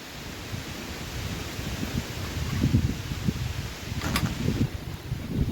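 Gusty outdoor wind rumbles and rustles softly and steadily, rising slightly in the second half, with a brief brighter rustle partway through and no voices.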